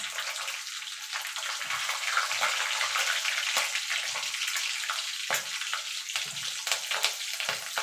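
Steady, hissing sizzle of nigella seeds and slit green chillies frying in hot oil, with occasional crackles and pops throughout and no talking.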